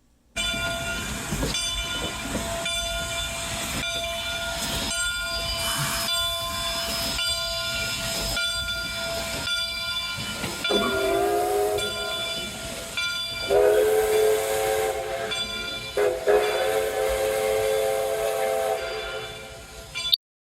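A steam whistle from Canadian Pacific steam locomotive 3716 on the Kettle Valley Steam Railway sounds repeatedly over the steady rumble and clatter of the moving train, with a long, loud sustained blast near the end.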